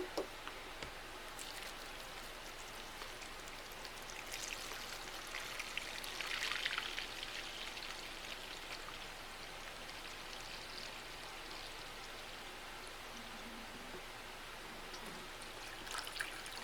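Water poured over a potted staghorn sumac bonsai to soak it, a faint continuous splashing trickle running steadily for the whole stretch with no talking.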